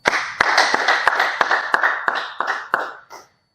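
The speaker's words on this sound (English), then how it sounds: "A round of applause once again for Nicole." A small audience claps in a steady, rhythmic beat, loud and close, with crisp hand claps that taper off and stop after about three seconds.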